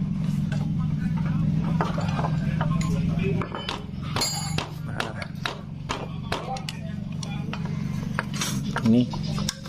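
Flat-blade screwdriver prying at a seized part on a Honda Supra X 125 motorcycle, giving sharp metallic clinks and taps scattered through the clip over a steady low engine-like hum, with people talking nearby.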